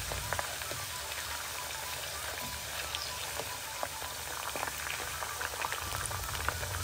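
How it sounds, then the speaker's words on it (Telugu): Thin potato slices deep frying in a single layer of oil over medium flame, a dense, even bubbling hiss with tiny crackles throughout, steady and fairly quiet, no talking. "ఇలా ఒక 10 minutes మీడియం ఫ్లేమ్ మీద డీప్ ఫ్రై చేసి లైట్ బ్రౌన్ కలర్ వచ్చాక తీసేయండి."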